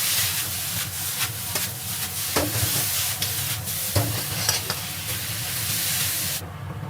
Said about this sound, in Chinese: 迅速翻炒均匀。